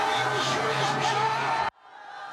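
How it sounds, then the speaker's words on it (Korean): Supporters of the president waving Korean and American flags cheer and shout at the main gate of Seoul Detention Center as the Justice Ministry escort vehicle departs, a steady crowd roar that cuts off abruptly, leaving quieter distant noise. "정문 앞에서 기다리던 윤 대통령 지지자들이 태극기와 성조기를 흔들며 환호합니다"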